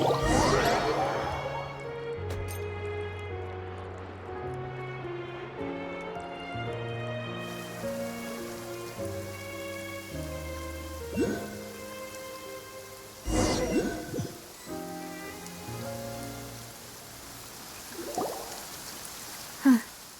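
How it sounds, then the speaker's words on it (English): Steady rain falls in a video game, a continuous hiss of rain under a soft musical score of sustained notes, with a few louder splashes or rumbles. "It's been raining non-stop for a few days now."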